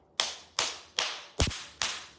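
A hand slapping firmly against the back of a knee, five sharp claps at an even, steady pace, close and loud with no talking.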